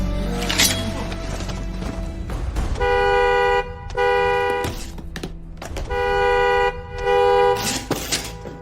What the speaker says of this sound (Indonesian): Suara klakson mobil di luar sana